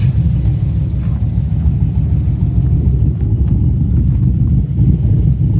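A 2013 Holden VF Commodore SSV Redline with its exhaust running, giving a steady, loud, deep rumble close by, with slight swells in revs throughout and no talking.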